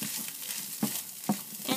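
Fresh hot pepper being stirred into fried rice in a hot pan, a continuous soft sizzle punctuated by a few sharp scrapes of the utensil against the pan.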